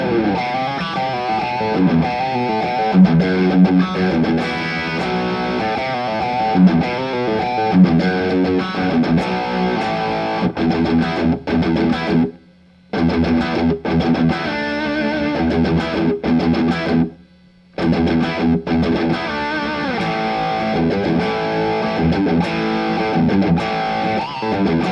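Electric guitar driven through a JOYO King of Kings overdrive pedal, giving a crunchy Marshall-style tone: loud, continuous distorted riffing and chords, broken by two brief silent pauses, with no talking.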